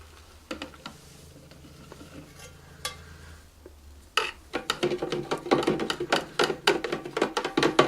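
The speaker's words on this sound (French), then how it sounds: "Et on n'oublie pas de mélanger" Giant bubble solution with glycerine being stirred in a container: faint scattered taps at first, then a busy run of sloshing, clinking strokes growing louder and more rhythmic.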